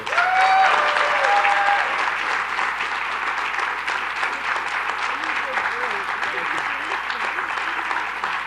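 An audience applauds continuously at a State of the State event welcoming Governor Kathy Hochul, dense, sustained clapping from a large crowd filling the whole stretch at steady loudness.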